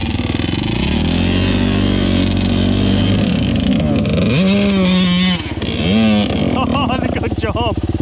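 Motocross dirt bike churning through deep mud on an enduro ride, its engine revving and bogging with a wavering, rising and falling pitch. The engine is loud and close throughout, with voices heard over it.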